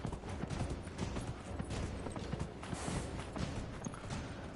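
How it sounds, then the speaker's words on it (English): Horse hooves gallop in the Dragon Age video game on the lowest-tier mount, making a quick, continuous clip-clop rhythm. It plays faintly and evenly throughout with no talk. "for the lowest tier ride there is, this is a pretty good looking horse though"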